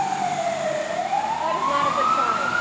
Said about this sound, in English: and more sirens.